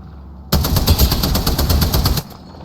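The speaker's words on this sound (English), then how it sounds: "Opening fire." A rapid burst of automatic gunfire in the video game Titan Halo, a loud, steady stream of closely spaced shots lasting under two seconds before cutting off abruptly.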